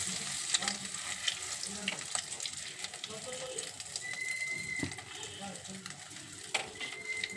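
Cashews and raisins fry in hot ghee with a soft, steady sizzle and bubbling. A few brief clinks are heard, and a voice talks faintly over it.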